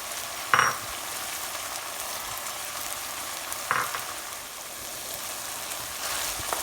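Chopped tomatoes frying in oil with spinach keema, a steady close hiss of sizzling throughout with two brief louder clinks of stirring.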